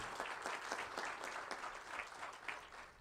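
Applause at a Malverne High School outdoor-style graduation ceremony: fairly soft, distant, steady clapping from the gathered crowd, sustained evenly throughout.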